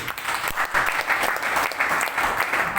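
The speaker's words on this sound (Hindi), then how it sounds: "ताली बजाओ इसके लिए।" An audience at a network marketing gathering claps steadily, a dense continuous patter of many hands at moderate volume, with no voices standing out.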